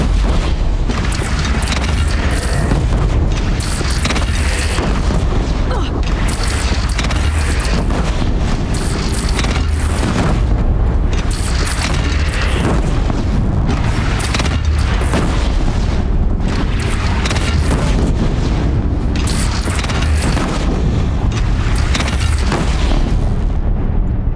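Cannon fire in Horizon Zero Dawn on PS5 during a bandit clan battle: dense, loud booming blasts layered over continuous roaring battle noise throughout.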